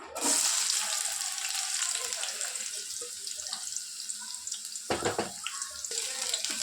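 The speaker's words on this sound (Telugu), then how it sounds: "ఆయిల్ హీట్ అయిన తర్వాత ఇందులో సన్నగా కట్ చేసి పెట్టుకున్న ఆనియన్స్ యాడ్ చేసుకోవాలి" Thinly sliced onions fry in hot oil in a kadai, a continuous bright hiss and crackle at moderate level, with a brief sharper burst partway through.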